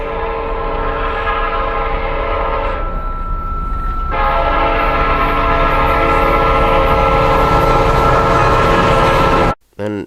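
A train draws nearer with its horn blaring in a long sustained blast, loud and steady, swelling after a brief dip before cutting off abruptly near the end; a short film scene with no talking.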